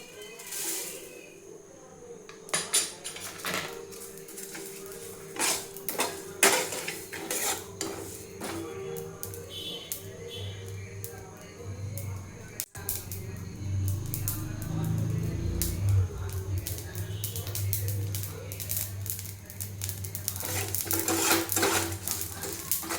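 Mango-pickle spice mix frying in a hot kadai. A metal spatula scrapes and clatters against the pan in irregular bursts, giving way to a steadier, louder sizzling hiss in the second half, with no talking.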